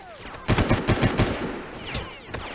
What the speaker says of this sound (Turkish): Lan bir yerden mermi geliyor lan. Oradan mı sıkıyorlar?